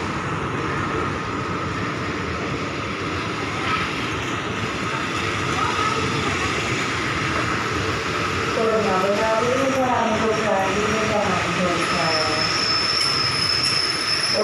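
Express train 111 passes on the railway with a loud, steady rumble of wheels on track. High metallic wheel squeals rise partway through and continue as the train keeps moving.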